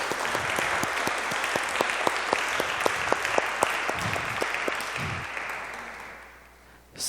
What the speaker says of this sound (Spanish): Aplaudimos esta mañana el nombre de Jesús